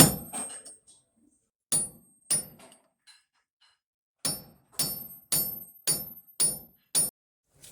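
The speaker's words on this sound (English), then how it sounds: "after a couple minutes of hitting it with our hammer and punch" A hammer strikes a punch to tap out a broken wheel stud, a series of sharp metallic blows, some in quick pairs and then a steady run of six, each ringing briefly before near silence, with no talking.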